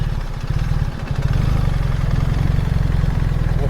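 A BMW R1300 GSA adventure motorcycle's boxer engine runs with a steady, close, throbbing low rumble and rapid regular pulses, the beat briefly dipping before settling into a constant idle-like churn.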